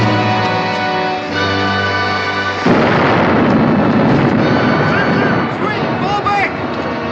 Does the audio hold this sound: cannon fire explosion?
yes